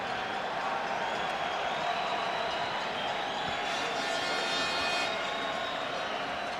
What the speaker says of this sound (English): Restless crowd waiting to see